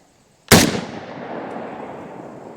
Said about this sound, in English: All right, y'all, 5 rounds of the soft points.